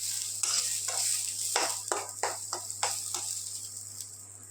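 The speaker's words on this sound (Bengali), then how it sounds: "সেজন্য আর কি ডালটা ভেজে নিচ্ছি ভালো করে" Moong dal sizzles in a hot pan for khichuri while being stirred, giving a steady frying hiss broken by repeated scraping strokes of a spoon, close and clear.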